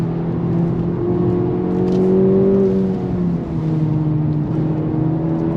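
The 2024 Acura Integra Type S brakes hard and downshifts to third gear, its engine note dropping and then blipping up as the revs settle into a steady hum, close and fairly loud inside the car.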